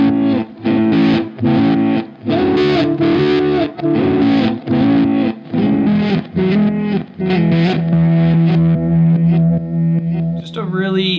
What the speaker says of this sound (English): if you put this in front of an amp with distortion, you'll get something like this.